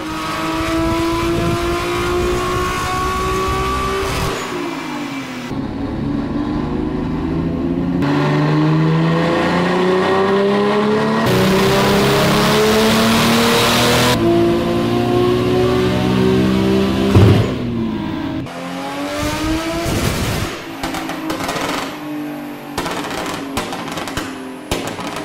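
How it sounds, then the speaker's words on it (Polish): Nissan GT-R with a single-turbo conversion running under load: a loud, continuous engine howl that climbs in pitch through repeated gears with brief dips at each shift, heard up close and alone for about 25 seconds. "wasze wrażenia dźwiękowe podczas pracy na obciążeniu Symfonia GTR-a na single turbo"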